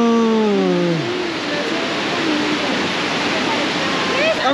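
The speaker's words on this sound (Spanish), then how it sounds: "Amigos, estas cascadas están impresionantes, están hermosas." Waterfall cascades at Grutas de Tolantongo, a thermal spring site in Mexico with turquoise water, give a steady, loud, broadband rush throughout, with a person's voice faintly audible near the start.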